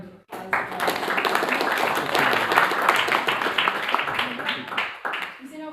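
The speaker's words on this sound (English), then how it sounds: "please give another round of applause" An audience at a formal forum in Jakarta breaks into a round of applause, a loud, dense burst of many hands clapping that swells quickly, holds steady, then tapers off.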